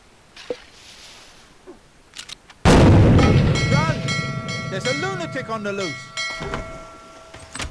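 A single loud in-game gunshot from Pirates of the Caribbean: New Horizons fires with a sharp boom, then a long ringing tail with tonal layered game sounds decaying over several seconds; faint quiet sounds precede it.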